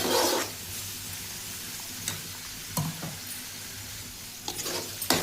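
Onion, coriander, green chillies and curry leaves being stirred in a pan, with a steady soft sizzle and occasional clinks of a spoon against the metal, close by and without talk.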